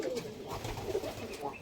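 A white-eyed Kalshira pigeon from a breeding pair coos in low, rolling bursts amid a hissy background, moderately close and fairly quiet.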